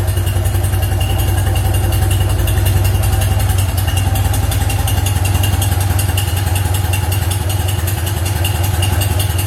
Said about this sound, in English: it should sit there and idle like that all day long